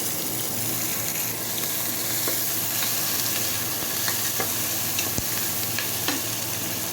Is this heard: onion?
yes